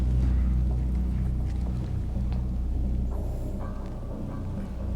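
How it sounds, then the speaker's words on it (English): Wind outside a hotel makes a steady, heavy low rumble that fills the whole stretch, loud and close with slight gusting swells and no voices. "That's the wind."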